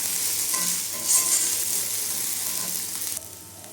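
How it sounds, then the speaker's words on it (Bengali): Crushed garlic, green chili and nigella seeds sizzle in hot oil while being stirred, a loud, close, continuous frying hiss with scraping that cuts off near the end. "রসুনের কাঁচা গন্ধটা চলে যাওয়া পর্যন্ত নাড়ব"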